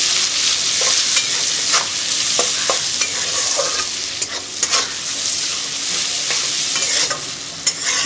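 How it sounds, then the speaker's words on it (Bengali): Spices, turmeric and salt frying with tomatoes in a pan are stirred briskly, giving a continuous close sizzle broken by scraping spatula strokes and taps. "এবার আমি এটা খুব ভালো করে নেড়ে দেব।"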